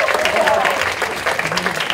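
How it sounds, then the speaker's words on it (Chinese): An audience applauds during an interactive session at a film promotion event, with dense, steady clapping from many hands that holds at an even loudness throughout. "掌声鼓励一下。"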